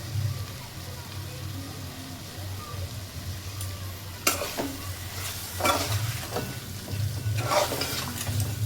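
Chicken curry with coriander powder being stirred in a hot pan, a steady sizzle with scraping spoon strokes that grow busier in the second half, no voices.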